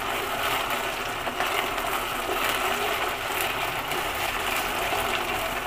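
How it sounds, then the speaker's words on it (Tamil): Water is poured into a pan of browned onions with ginger garlic paste while cooking beef gravy, giving a steady loud rushing, sizzling hiss that runs unbroken throughout. "கொஞ்சோண்டு தண்ணி ஊற்றிடுவாங்க."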